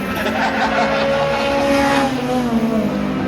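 Stock cars race around an oval track, their engines roaring past with a sustained, rising-then-falling howl as the pack sweeps by nearby.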